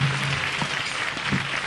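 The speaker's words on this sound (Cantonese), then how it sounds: "俾掌聲。" Audience applause fills a farmer-themed awards ceremony, a steady, dense wash of many hands clapping that carries on unbroken for the whole moment.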